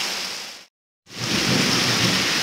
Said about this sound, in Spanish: Está tronando, chicas hermosas. Miren si alcanzan a ver cómo está lloviendo.